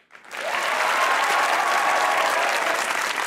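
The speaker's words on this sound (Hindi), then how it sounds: "बजाइए तालियां" A studio audience at a Pakistani comedy talk show bursts into clapping after a brief quiet moment, then holds a dense, loud, even round of applause to the end.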